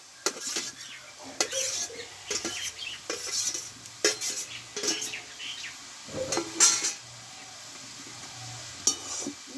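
Bengali-style pea greens (motor shak) stirred while cooking in a pot: irregular bursts of a spoon scraping and clinking against the metal over a soft, steady sizzle, close and fairly loud, no speech.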